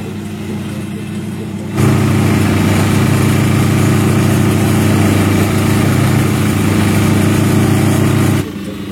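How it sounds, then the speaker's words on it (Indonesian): A shredding machine chopping water hyacinth roars into a loud, steady mechanical drone for several seconds, then drops back to quieter background noise. "enceng gondok yang dikumpulkan kemudian dimasukkan ke mesin pencacah sebagai tahap awal"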